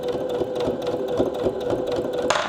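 A sewing machine stitches fabric straps with a rapid, steady mechanical whir and needle chatter, close and loud, running continuously for a couple of seconds before a short clunk at the end, with no talking.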